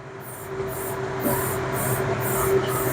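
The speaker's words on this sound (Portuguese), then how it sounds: "A gente entra com o spray pela parte da frente" Spray paint can spraying onto a PVC letter, a steady hissing stream broken by short pauses between bursts, close and fairly loud, with no voices.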